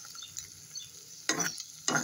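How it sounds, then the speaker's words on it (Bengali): Ground spice paste sizzles and fries in a pan while being stirred and sautéed, with faint quiet frying and two louder bursts of sizzling as the paste is turned over, no voices. "অনেকক্ষণ ধরে এটা কষা হবে বলতে পারো"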